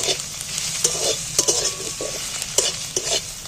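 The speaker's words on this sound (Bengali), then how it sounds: "পেঁয়াজটা একটু নাড়াছাড়া করে লাল লাল করে একটু ভেজে নেব" Sliced onions sizzle steadily in hot oil in a pan, with a spoon stirring and scraping through them in repeated short clacks over a constant frying hiss.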